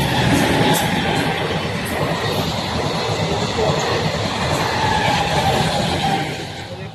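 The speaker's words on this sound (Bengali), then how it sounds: "ট্রেনটা চলে গেল" A train rolls past close by, a loud, steady rumbling roar that holds for about six seconds before easing off at the end.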